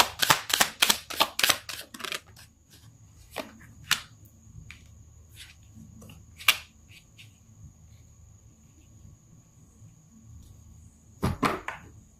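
Tarot cards being shuffled by hand, a quick run of crisp riffling snaps at the start, then scattered soft card slaps and taps, and a final burst of shuffling at the end, close and dry.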